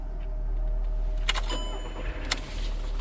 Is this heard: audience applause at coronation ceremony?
no